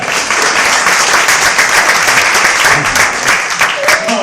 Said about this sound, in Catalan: Vinga, un aplaudiment per Eduard, vinga!